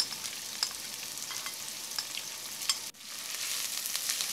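Chopped onions hit a hot pot on high flame with whole spices, setting off a bright, steady sizzle and frying hiss that continues throughout, briefly dipping before resuming.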